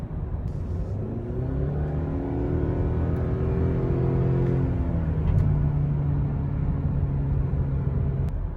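A Toyota Camry driving on the road, its engine and tyre noise forming a steady, fairly quiet rumble with a slight rise in pitch as it accelerates, continuous throughout with no talking.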